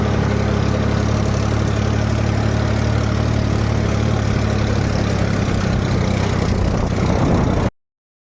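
A tractor engine runs steadily throughout on a rough, badly rutted road, a loud continuous low rumble with vibration and no pauses, cutting off abruptly at the end.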